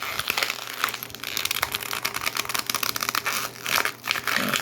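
A 3 3/4 inch 2006 Star Wars Airborne Trooper action figure is worked out of its plastic packaging, with continuous close crinkling and crackling of stiff plastic in irregular bursts.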